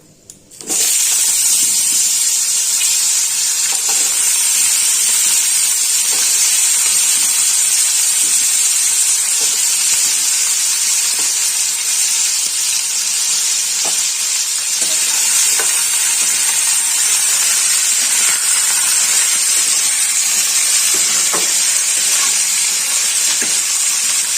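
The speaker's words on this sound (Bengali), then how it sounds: "এবার এর মধ্যে দিয়ে দেবো আলু কুচনো মানে এরকম দেখুন এই কিউব করে কেটে নিয়েছি" Cubed potatoes sizzle loudly in hot oil with cumin in a pan for banana flower curry, a bright continuous frying hiss that starts abruptly and holds steady, with faint occasional stirring clicks and no talk.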